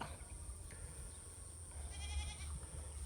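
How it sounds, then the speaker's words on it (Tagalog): Goats in a countryside pen in Midsayap, North Cotabato, give one short, faint bleat near the end over quiet rural background noise, with no talking. "may mga kambing din dito so yan kambingan"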